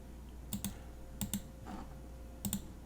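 Clicks of a computer keyboard and mouse while shift-selecting objects in Fusion 360 come in three close pairs of sharp taps, well spaced, against a quiet background hum with no talk.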